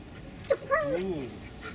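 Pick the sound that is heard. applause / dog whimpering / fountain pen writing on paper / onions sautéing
dog whimpering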